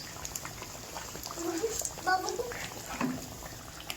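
Vadas for vada pav deep-frying in hot oil in a home kitchen, a steady close crackling sizzle running throughout, with faint voices and brief tonal bits rising over it midway.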